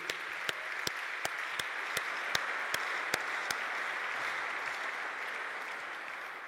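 A church congregation applauds steadily, with sharp rhythmic clapping standing out over a dense wash of hand claps, continuous for several seconds at moderate distance, no voices prominent.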